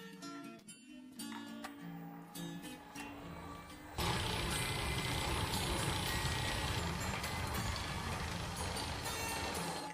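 A stand mixer kneads rum baba dough at high speed, giving a continuous loud whirring grind that jumps louder and fuller partway through and then holds steady.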